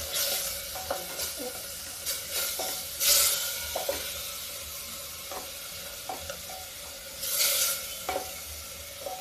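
Arbi (taro) being stir-fried in a pan, with a steady close sizzle under repeated scraping strokes of a spoon and a couple of louder bursts of frying noise; no talking.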